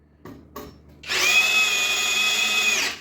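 A Parkside cordless drill in first gear drives a screw: two light taps, then a loud, steady whine runs for about two seconds and stops abruptly.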